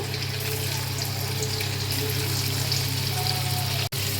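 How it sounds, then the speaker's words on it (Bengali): Paneer cubes dusted with Kashmiri red chili powder and flour fry in hot oil in a wok, giving a steady close sizzle that runs without a break until a brief drop near the end. "তেলটা আমার গরম হয়ে গেছে, হালকা করে একটু ভেজে নেব।"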